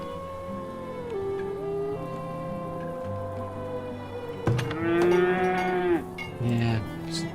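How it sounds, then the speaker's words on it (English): Cows on a farm in the video game Farthest Frontier low repeatedly in drawn-out moos, several overlapping calls near and slightly apart, with faint patter in the background and no talk. "Yeah, the cows aren't particularly happy."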